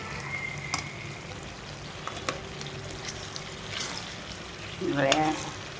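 Chopped ingredients with ginger, garlic, green chilli paste and salt fry in plenty of oil while being stirred, a steady quiet sizzle broken by a few scraping knocks of the spoon and a brief louder burst near the end.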